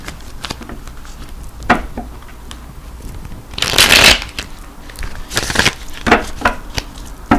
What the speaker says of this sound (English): Oh, let me shuffle them again.